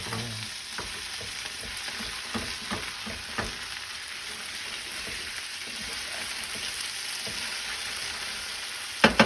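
Potatoes and onions fry in a pan with a steady, close sizzle, broken by scraping stirs and a few sharp knocks of the utensil against the pan near the end.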